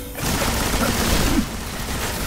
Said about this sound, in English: That's you shooting